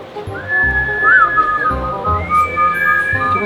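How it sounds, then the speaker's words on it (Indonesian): A person whistles to prompt a horse to urinate at a polo club, a sustained close tune with wavering pitch and a few short breaks, and no talking during the whistle. "Ternyata siul buat kecil."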